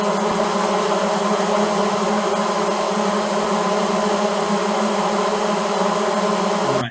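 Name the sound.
babble noise from one voice's digits superimposed 10,000 times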